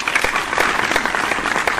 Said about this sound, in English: They can unmute themselves and clap for our speakers for today.